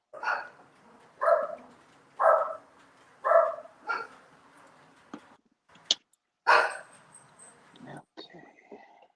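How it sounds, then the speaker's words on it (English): A dog barks indoors at a mailman, a run of five or six loud, evenly spaced barks followed by a few scattered yips and clatters, with no one talking over it. "Uh-oh, one of my crazy dogs."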